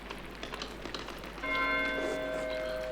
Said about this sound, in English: Why is Matthew ringing the bell?